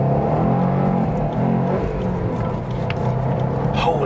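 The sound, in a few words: Subaru WRX STI accelerating in Sport Plus mode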